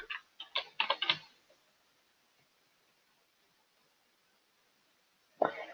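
Quick bursts of computer keyboard typing near the start, a pause of near silence, then another short flurry of keystrokes at the end, close and fairly quiet.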